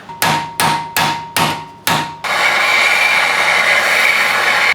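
Five sharp, ringing hammer blows on metal in a workshop while pulling an Abarth 500 engine, in a steady rhythm, followed by a loud continuous mechanical hiss or grinding noise.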